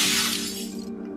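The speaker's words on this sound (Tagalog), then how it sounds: "Ang mga bala ay tumatagos sa mga salamin sa loob ng bahay, nagdulot ng malalakas na pagkabasag." Glass shatters from gunshots in an audio drama sound effect, a single loud crash of breaking glass that rings out briefly and then cuts off.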